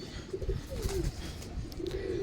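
Cooing pigeons kept in a home loft, with low, repeated calls under a busy, rustling background of birds moving close by.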